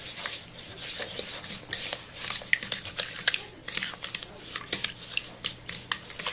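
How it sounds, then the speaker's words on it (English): An egg is whisked into matcha sponge cake batter in a bowl, giving rapid, continuous metallic clicking and scraping strokes at close range, with no talking over them. "So we'll whisk this in first."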